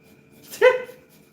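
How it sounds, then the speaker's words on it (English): A single short bark or yelp from a dog in a home kitchen during breakfast cooking, fairly close and over a quiet background. "where's the dog?"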